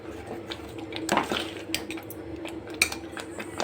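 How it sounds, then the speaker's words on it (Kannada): Puliyogare rice being mixed with gojju and spice powder in a metal vessel, giving soft scraping and clinking of a spoon against the pot with a few sharper knocks, close and moderately quiet. "ಗಂಟೆ ನೀಟಾಗಿ ಪೌಡ್ರ್ ಹಾಕಿ ಕಲಿಸ್ಬೇಕು"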